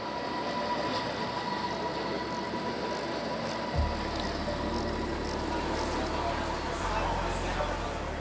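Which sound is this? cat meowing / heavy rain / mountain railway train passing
mountain railway train passing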